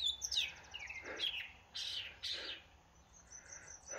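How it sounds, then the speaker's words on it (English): A catbird sings from a tree outdoors, giving bursts of squeaky, scratchy chirps and whistled notes that repeat over a quiet background. "I believe that's a catbird up in the tree."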